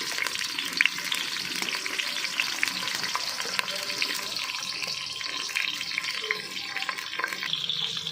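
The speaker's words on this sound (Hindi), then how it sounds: "प्याज को हम हल्का सा सौते होने तक पकाएंगे।" Finely chopped raw onions and tomatoes sauté in a pan for spiced potato slices, with a steady, close sizzle and frequent scraping stir clicks throughout.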